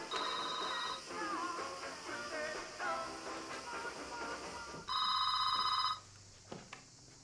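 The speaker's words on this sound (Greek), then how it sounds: "Κυρία Μαρία, τηλέφωνο." A telephone rings in a steady electronic trill for about a second near the end, after a stretch of busy background with music-like tones and clatter.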